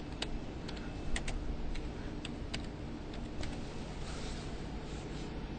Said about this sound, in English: type in your customer number